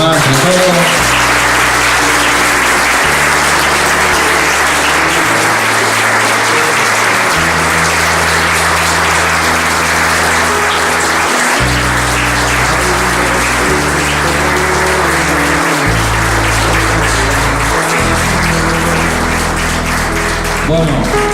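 A large audience at an open talk applauds loudly and continuously for over twenty seconds, with a low musical drone underneath.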